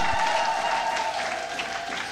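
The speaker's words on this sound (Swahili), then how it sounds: "Pigia Yesu makofi mazuri" A church congregation clapping loudly in sustained, dense applause during an Easter service sermon at a Moravian church in Mbalizi, steady and close throughout.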